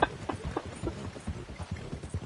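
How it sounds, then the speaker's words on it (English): Horse hooves clip-clop in a quick, uneven rhythm in Red Dead Redemption 2, fairly close and alone, with no talking. "His horse is on a rampage while he shoots people."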